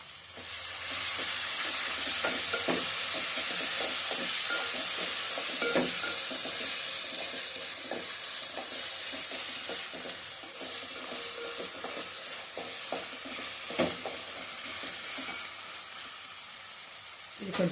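Fat pieces sizzle in a pan with salt and turmeric for a fat rasam, a steady broad frying hiss with scattered scraping clicks of stirring throughout, fairly close and continuous.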